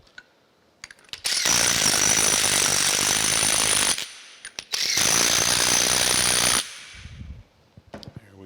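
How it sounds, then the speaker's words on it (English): A power impact tool tightens bolts on metal planer bearing shells in two loud rattling bursts of about two and a half and two seconds, separated by a brief pause, with small clicks of handling before and after. "Put the bearing shells on here. And tighten the bolts."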